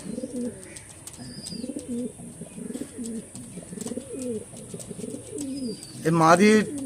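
Low, repeated coos of racing pigeons rumble steadily throughout, with a brief louder flutter or burst of calls near the end.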